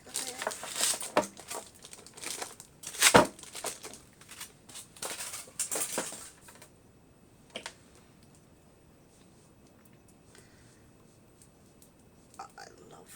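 Packaging of a Best Mate toner foiling machine crinkling and rustling during unboxing, busy bursts of plastic and cardboard handling for several seconds, then mostly quiet with a few isolated taps.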